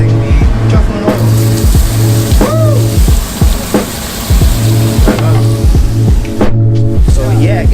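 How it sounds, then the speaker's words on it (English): Oil sizzles steadily in a pan as tofu fries, with repeated scraping and stirring knocks over a constant hissing bed. "Now we're frying the tofu in oil."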